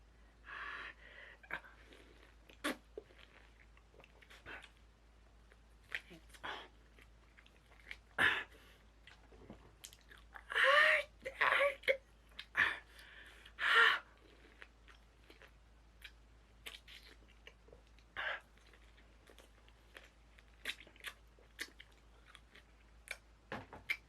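Someone eats as a penalty forfeit, with scattered close wet chewing, crunching and sharp breaths that come in irregular bursts and louder clusters around the middle, separated by quiet stretches, without speech.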